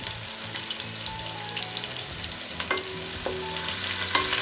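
Onions frying in hot oil for Chinese ginger chicken sizzle steadily, with stirring scrapes and a few utensil knocks on the pan, close and continuous, without talk.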